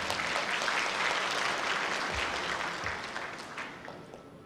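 Audience applause at a ceremony welcoming an East Turkestani community leader, a dense, sustained wash of clapping from a crowd that holds steady and then gradually fades toward the end.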